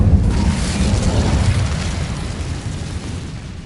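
A loud Incendio fire spell blast from the Hogwarts Legacy video game, a dense roaring burst that hits at once and slowly fades over a few seconds.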